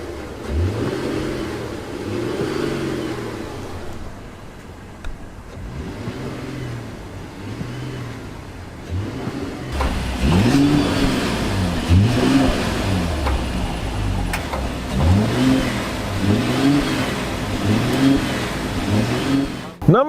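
A 2020 Mercedes GLE's straight-six mild hybrid engine revs repeatedly in close, loud, rhythmic bursts that rise and fall, with a voice talking faintly at times.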